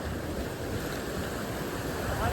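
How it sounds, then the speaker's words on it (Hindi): Fast-flowing river current rushing steadily and loudly nearby, a dense continuous wash of water with wind buffeting the microphone, no talk. "पानी का बहाव चेक करो, बहुत तेज बहाव है"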